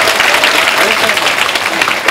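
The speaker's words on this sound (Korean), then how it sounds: "박수해주세요." Audience applause at a Korean postal civil service exam interview lecture as the instructor is introduced, a dense, steady clatter of many hands filling the room at close range throughout.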